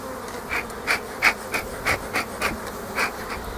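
Honey bees buzzing during a hive transfer, a steady close drone with repeated louder swells as individual bees pass near, about eight distinct passes over a constant hum.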